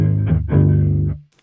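Electric guitar played through an engaged Carbon pedal on a pedalboard: a short, thick distorted chord phrase with two attacks, ringing about a second before cutting off into near silence.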